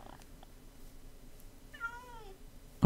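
A cat meows once in the video game Minecraft, a short falling cry over a quiet background with low room noise.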